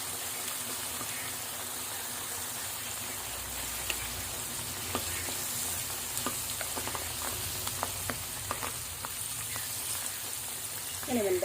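Pork skin dusted with tapioca starch frying in hot oil, a steady broadband sizzle with scattered sharp pops and crackles running throughout, fairly close and continuous.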